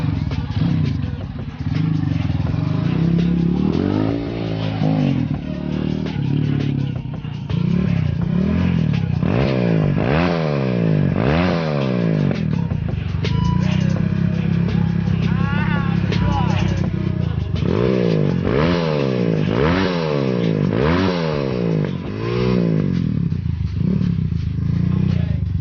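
A motorcycle fitted with an Andy Speed aftermarket exhaust revs up and down repeatedly, loud and close, each blip rising and falling in pitch between steady idling stretches.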